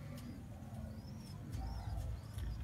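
Pigeons on a rooftop give soft, low coos while higher chirps flicker above, against a faint background rumble; a few calls repeat over a couple of seconds, moderately near and quiet, with no speech.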